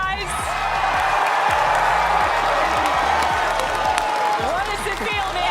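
Audience at a Fortnite FNCS tournament cheers and claps steadily, a dense continuous roar of crowd noise with whoops, while someone talks over it.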